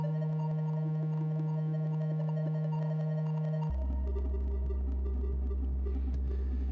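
A granular synthesizer plays a bass line as sustained low synthetic tones that step to a deeper pitch midway, layered with a buzzy grainy texture and clicking grain pulses, steady and loud with no talking.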